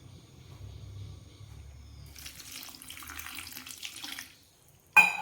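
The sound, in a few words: pouring water into a cooking pot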